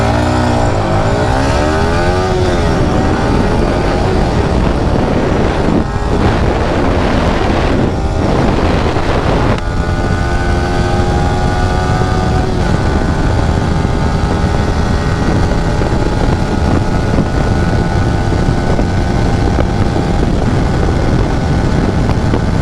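Two Yamaha R15 V4 motorcycles in a drag race, engines loud and close throughout, revving and accelerating with rising, sweeping tones that climb through the gears, no talking.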